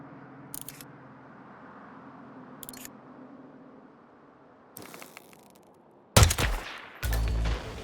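A sniper rifle fires in the stealth game Hitman 3: after several seconds of quiet ambient background, a loud, sharp close report cracks out, then a second heavy burst follows almost immediately.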